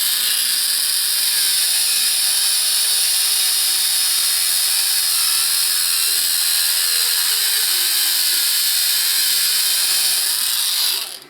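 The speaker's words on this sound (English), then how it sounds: "I'm going to use my Dremel with a sanding disc, and I'm just going to remove just like a 32nd of an inch of diameter" A Dremel with a sanding disc grinds down a small model part to fit over brass tubing, giving a steady high-pitched whine that holds loud and even for about eleven seconds before cutting off.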